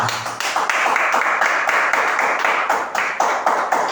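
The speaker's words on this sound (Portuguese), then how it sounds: "Salva de palmas para Jesus." A small church congregation claps steadily and fairly loudly for a few seconds, the claps blending into a continuous patter with no voices over it.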